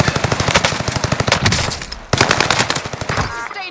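Bursts of rapid automatic machine gun fire in the Call of Duty Warzone video game, loud and close, in two long rattling volleys separated by a brief pause.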